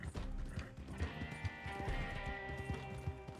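Horse hooves in Red Dead Redemption Online, a steady run of close, rhythmic clip-clop beats from a single horse, with game music underneath.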